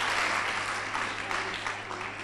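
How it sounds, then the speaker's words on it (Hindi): Audience applause at a Vedic yoga event on third-eye activation, with a steady clapping crowd heard close for a couple of seconds without speech. "जोरदार ताली बजा दो भाई"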